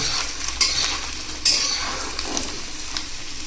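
Paneer frying and spluttering in oil in a kitchen pan, a steady loud sizzle with two sharper bursts of spatter and faint utensil stirring, no voices.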